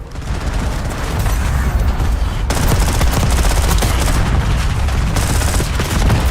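Rapid video game gunfire in a multiplayer shooter match, dense continuous bursts and booms that stay loud throughout, with no voices.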